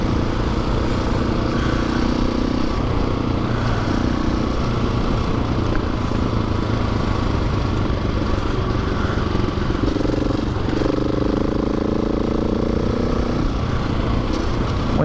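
An adventure motorcycle rides a sandy dirt trail near Perth, its engine droning loudly and steadily throughout, with rough clattering from the uneven ground.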